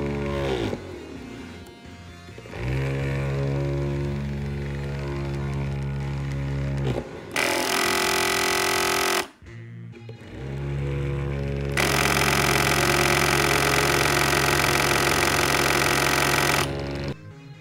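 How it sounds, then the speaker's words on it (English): A 4E Scientific mini lab vortex shaker and a cheap fingernail polish shaker run side by side, a loud steady mechanical buzz switching on and off in several stretches, the second run louder and harsher, with no talking. "Now for a side-by-side comparison to a very inexpensive fingernail polish shaker"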